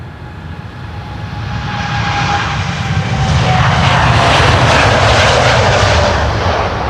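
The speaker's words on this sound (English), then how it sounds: "This is TUI, flight 391 to Bonaire." A TUI passenger jet departs Amsterdam Schiphol Airport, its engine roar building steadily from a rumble into a loud, broad wash with a faint whining tone, close and sustained with no talk.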